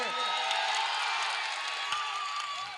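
A large crowd at a poetry recital cheers and claps continuously, a dense roar of voices and applause heard from within the audience.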